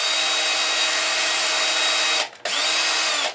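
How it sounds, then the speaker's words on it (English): A power drill bores an end pin hole into the body of an Explorer-style guitar kit, a loud, continuous high whine that briefly cuts out and restarts before stopping, with no speech. "we have to be basically 90 degrees to the surface when we drill"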